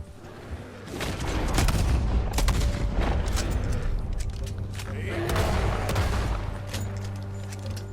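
A rapid, dense burst of gunfire in the video game Red Dead Redemption 2, loud and close, with booming shots over rumble and voices talking underneath.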